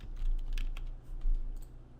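Keyboard keys clicking in short irregular bursts, soft and close, with a low steady hum underneath.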